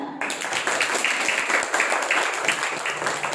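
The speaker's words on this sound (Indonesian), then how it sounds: "Beri tepuk tangan dong." An audience at a Maulid charity gathering at an Islamic foundation applauds a children's performance, giving a sustained, steady round of clapping that begins abruptly and continues evenly without speech.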